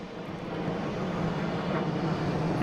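A Southwest Airlines jet bound for Chicago Midway at Boston Logan airport, heard as a steady broad engine roar that swells slightly and holds loud and fairly near throughout, with no voices.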